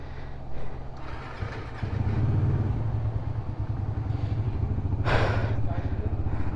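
A motorbike engine filled with thick engine oil idles and warms up in Ladakh, a loud steady low rumble throughout with a brief revving swell near the end.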